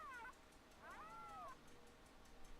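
Two drawn-out meows with gliding pitch from a cat in a video game, the second longer, over a quiet low background hum.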